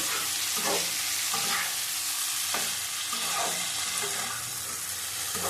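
Spices sauté in a pan for a tengra fish, cauliflower and potato curry, a dense, even sizzle with rhythmic stirring strokes every second or so, near and unbroken by talk.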